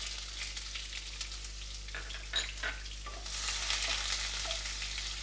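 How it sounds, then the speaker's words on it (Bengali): Chopped onion sizzling in hot oil in a wok for a pineapple hilsa fish curry, a fairly faint steady frying hiss that swells louder partway through, over a low electrical hum. "আমি কড়াইতে তেল গরম করে নিয়েছি, এবার আমি দিয়ে দেব পেঁয়াজ কুচিটা।"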